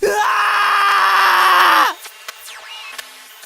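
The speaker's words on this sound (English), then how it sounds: "Unable to bear it, I scream." A high, strained scream from a character in the visual novel I/O, held loudly for nearly two seconds before cutting off abruptly, followed by faint electronic glitchy blips and tones.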